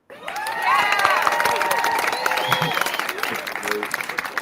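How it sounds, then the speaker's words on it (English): A lively community coffee-break crowd bursts into loud applause and cheering, with dense clapping and whoops holding steady for several seconds and a few voices shouting through the noise. "Nice round of applause for Mac and the wonderfulness."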